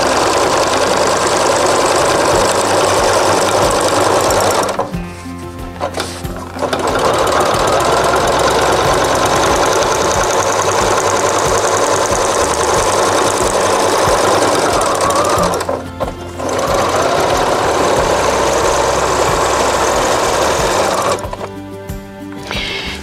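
A quilting sewing machine channel stitching straight rows across a quilt, a loud continuous rapid whir that stops briefly three times and then starts again.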